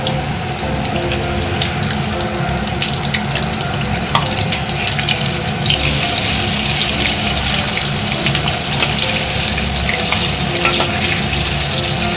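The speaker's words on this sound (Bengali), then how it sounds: "এবার পকোড়াগুলো আমি ভেজে নেবো এক এক করে।" Pakoras frying one by one in hot oil in a kadai wok, giving a loud, steady, close sizzle with occasional sharper crackles and no talk.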